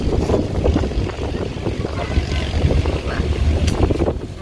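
Steady, blustery wind in Tanay roaring across the microphone, with low rumbling buffeting throughout and no clear voices.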